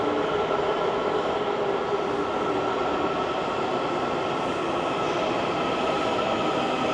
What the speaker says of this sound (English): Nope, not my train.